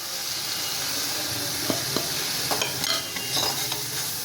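Ginger garlic paste sizzles and fries in a pan with chilli, turmeric, cumin and pepper powder, a steady close hiss broken by scraping stirs of a spatula, with no voices.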